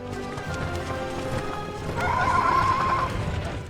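An ostrich horse, the hybrid creature from the animated series Avatar: The Last Airbender, whinnies loudly with a sustained, tonal cry in the middle, over busy clip-clopping hooves and background bustle.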